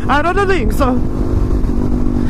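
Suzuki DRZ400sm motorcycle engine droning steadily during a ride, loud and close with wind rush, someone speaking briefly over it.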